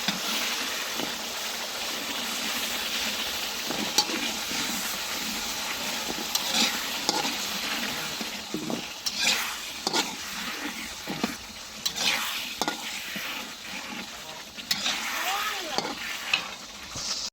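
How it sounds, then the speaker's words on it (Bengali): Potatoes stir-fried in hot oil with spices, a continuous close sizzle with irregular spatula scrapes and stirring strokes throughout, faint voices now and then underneath. "প্রথমে হচ্ছে আলুটা কষাই নিব, তেল বের হয়ে গেছে"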